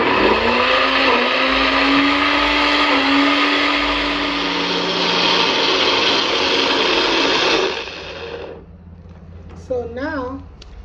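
A strong blender whirs loudly and steadily as it grinds garlic and ginger into a paste, then cuts off sharply, leaving quiet room tone and a brief voice.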